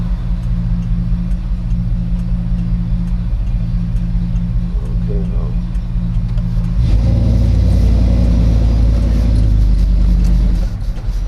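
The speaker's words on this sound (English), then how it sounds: "Oh, there's so many cars." Heavy road traffic rumbles nearby as many cars pass, a low steady drone that swells louder and fuller partway through, with a brief spoken remark over it.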